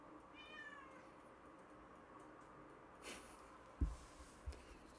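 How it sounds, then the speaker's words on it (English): A cat meows softly a few times during a morning walk, faint and rising in pitch early on, over a quiet outdoor background with a couple of brief louder thumps near the end. "by a meowing cat."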